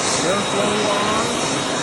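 A Panasonic upright vacuum cleaner runs with its airflow on, giving a loud, constant rushing roar with a whistling hum, close to the microphone.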